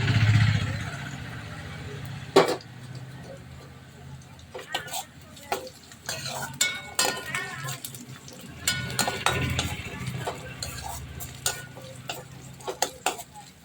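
Onions sautéing in a pan for coconut rice, a soft sizzle broken by repeated clinks and scrapes of a spoon stirring against the metal while someone talks over it.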